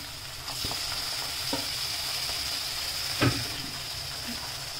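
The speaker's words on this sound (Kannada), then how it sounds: "ಚಿಕನ್ ಆ್ಯಡ್ ಮಾಡ್ಕೊಂಡು ಸ್ವಲ್ಪ ಚಿಕನ್ ಸ್ವಲ್ಪ ಫ್ರೈ ಆಗುತ್ತೆ ಜಾಸ್ತಿ" Washed chicken frying in a pan, a continuous close sizzle and hiss with a few soft knocks from stirring, one slightly louder around the middle, and no talking.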